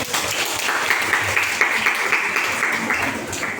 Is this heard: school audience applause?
yes